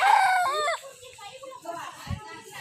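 A rooster crows nearby, a single drawn-out call, followed by faint background voices and clucking.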